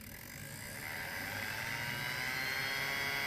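A Dapol model railway track cleaning wagon with its Hoover vacuum attachment runs as a steady whirring motor hum, swelling gradually as it is ramped up and then holding a continuous drone, with no talking.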